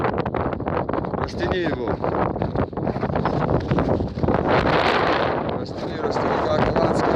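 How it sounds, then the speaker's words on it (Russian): Strong gusting wind roars and buffets the microphone steadily on the summit of Elbrus, the highest point in Russia and Europe, while people talk and call out over it as a flag is held up. "Ветер."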